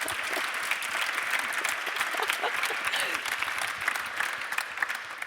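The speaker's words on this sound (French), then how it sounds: "Je pense qu'on peut applaudir Isabelle Laurence." An audience claps steadily for several seconds at a round-table panel on women mechanics and workshop technicians, even dense applause at moderate level with no voices over it.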